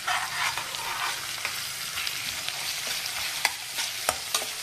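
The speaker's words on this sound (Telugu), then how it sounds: "చూడండి ఎట్లా వేగిపోతున్నాయి." Curry leaves sizzling in hot oil in a pan while cooking a bottle gourd and chana dal curry, a steady crackling fry with scattered sharp pops and stirring scrapes, close and continuous with no talk.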